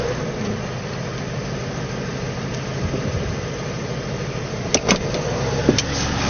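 A Cadillac DeVille engine idles steadily with a low, even rumble while the long car backs up slowly, with a few brief clicks and small mechanical noises near the end.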